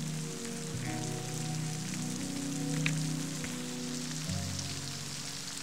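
Steady rain patters and hisses on a surface at a mountain shelter in the Indashty tract, continuous throughout, with a low droning hum running beneath it.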